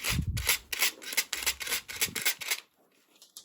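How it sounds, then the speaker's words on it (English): Parts from a Tec Arc Compact Mig 251 MIG welder being restored are scrubbed clean up close, with about ten quick, rhythmic rasping strokes that then stop, leaving near silence. "I'll try and do the same with these as well, give them a quick scrub up"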